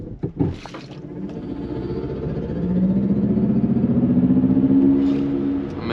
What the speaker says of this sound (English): Let me do a little race start before,